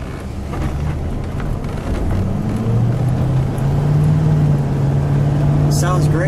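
A 1971 Buick Riviera GS Gran Sport with its 455 V8, heard from inside while driving, gives a steady low drone that rises gradually in pitch as it accelerates, with wind and road noise around it.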